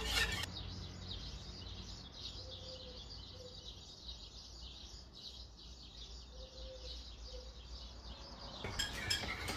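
A whisk scrapes and clinks steadily against a pot as a Turkish semolina-style pudding mixture of butter and vanilla thickens on the stove, a continuous close, rhythmic metallic churning under a soft background hiss.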